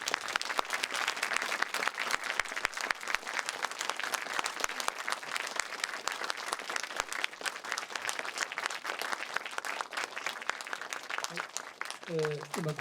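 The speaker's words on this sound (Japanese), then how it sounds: "それでは皆さん拍手でお迎えください" An audience at an anime film talk show claps steadily and densely for guests coming on stage, the applause sustained and even throughout, with a voice beginning to speak as it fades at the end.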